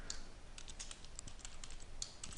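Rapid typing on a computer keyboard, a steady run of light, close key clicks with small bursts and pauses, no voices.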